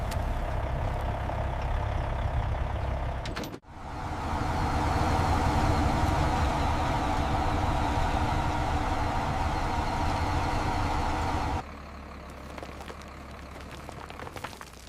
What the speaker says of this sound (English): Where are these trucks really going?